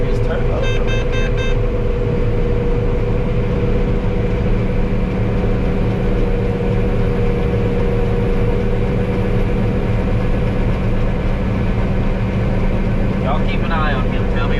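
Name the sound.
turbo of harvest machine engine running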